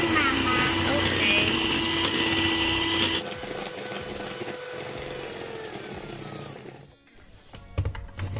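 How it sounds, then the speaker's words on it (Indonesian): An electric mixer beats butter cookie dough for crunchy buttery coin-shaped cat tongue cookies, a steady near motor whir that drops in pitch midway and stops near the end, with speech over it. "Senang ya kamu mixer adonannya?"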